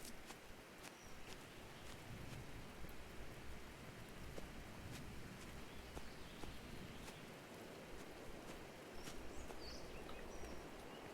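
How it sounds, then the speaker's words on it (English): Steady rain falls in the Open Country video game, a dense, even hiss with scattered drop ticks, continuing at a constant level; no clear thunder stands out. "Alright, we're getting rained on."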